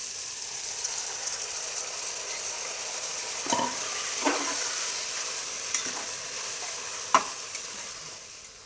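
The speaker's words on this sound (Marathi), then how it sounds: "मी धुतलेले तांदूळ टाकायचे" Rice with cloves, pepper and green cardamom being stirred in a frying pot for village-style pulao, a steady low sizzle with a few scraping strokes of the spoon, close and moderately quiet, no talking.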